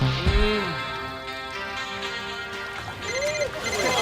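A mobile phone rings with a repeating electronic ringtone at a casual drinking get-together, heard moderately loud over a steady background hum with some faint voices.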